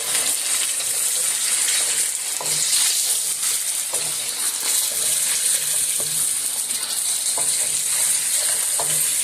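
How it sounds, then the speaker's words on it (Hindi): Achari chicken wings fry in a pan, making a loud, steady sizzle throughout with faint periodic clicks and ticks, and no talking. "और इनको अब हम थोड़ी देर फ्राई करते हैं।"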